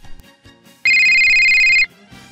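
A telephone rings during a call with one loud, steady electronic burst of about a second, set between quieter sounds of a scene.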